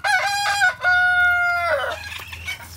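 Rhode Island chickens penned apart from native birds, a loud close rooster crow with drawn-out tonal calls and clucking, lasting a couple of seconds.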